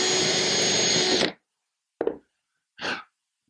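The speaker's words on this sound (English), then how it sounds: "Now I'm just going to drill right here in the center." An electric drill runs loudly and close for a second, drilling a hole in a cabinet for adjustable shelves, before cutting off, followed by two short bursts of scraping or clattering.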